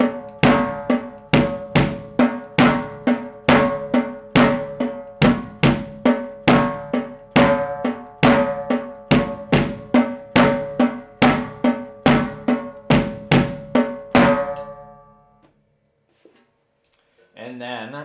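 Bright, hard-edged percussion strikes in a steady evenly spaced pulse of alternating single strokes with slight grouping accents, loud and close, then stopping with faint handling noise and a brief voice at the end.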